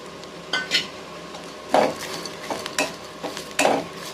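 Curry leaves and dried red chillies being sautéed in a pan for a stuffed whole bitter gourd fry, heard as a few short scraping stirs and soft sizzling bursts against a quiet background, with no talking.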